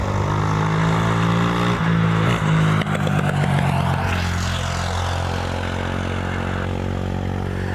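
A United Boeing 777 airliner takes off at Cleveland's airport while motorcycles pass close by, so a loud, steady engine roar with droning harmonic tones fills the whole stretch, rising and shifting as the bikes sweep past.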